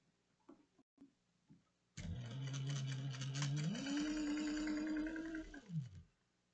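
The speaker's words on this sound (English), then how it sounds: "we're gonna top stitch baste it together or sew it together 3/8 of an inch" A sewing machine top-stitches a bag lining to the outer fabric, starting after a few soft handling clicks with a close, loud, even motor whir that rises in pitch as it speeds up, then winds down and stops.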